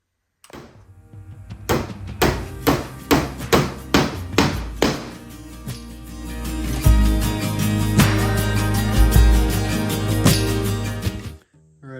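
A hammer drives 1¼ inch finishing nails at an off-grid wilderness homestead: about eight sharp, evenly spaced blows up close, then a steadier, louder rumbling noise for several seconds before it stops.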